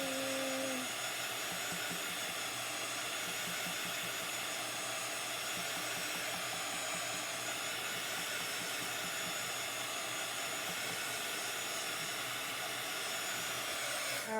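A hair dryer or heat tool blowing steadily to dry chalk paste on a craft project, a loud, continuous close whooshing hum with no pauses.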